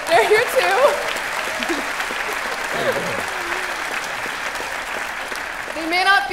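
An audience applauding to welcome guests Lawrence and Richard at a science talk, a broad, steady wash of clapping with a voice speaking over it at the start and end.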